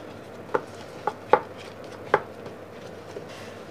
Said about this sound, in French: On commence par découper notre aubergine en rondelles.